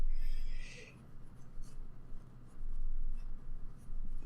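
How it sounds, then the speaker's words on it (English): A microfiber cloth wipes the lens of a small RunCam action camera, producing soft, close rubbing and scratchy friction strokes in uneven bursts against a quiet room. "I'm going to grab a microfiber cloth and I'm going to clean that lens."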